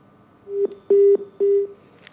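Telephone tones sound as an official ends a call: three loud, clear electronic beeps, the last two longer, on a quiet line.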